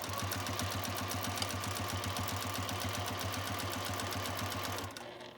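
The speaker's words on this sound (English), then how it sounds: "So I'm going to stitch up to here." A sewing machine stitches quilt binding in a fast, steady mechanical rattle, running continuously up close and then stopping abruptly near the end, alone without speech.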